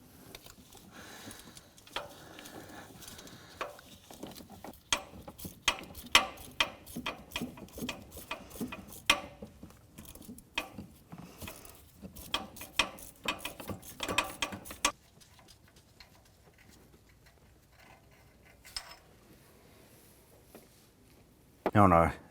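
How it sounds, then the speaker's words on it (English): Ratchet with a 12mm deep socket loosening an exhaust manifold bolt on a 1993-1997 Ford Ranger, rapid clicking bursts for about fifteen seconds, then quieter handling and a short loud clatter at the end, with a voice heard in places. "Now for the back lower bolt, we're going to switch over to a 12mm deep socket."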